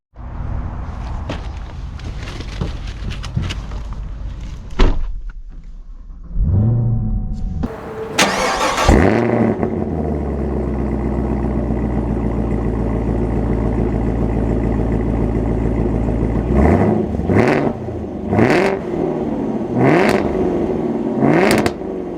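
A 2024 Chevy Corvette or Camaro ZL1 engine cranks and fires up, then settles into a loud steady idle with several sharp revs near the end, heard close up.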